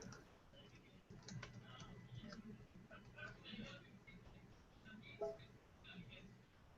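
Steady keyboard typing, a rapid patter of light key clicks, with faint voices talking in the background.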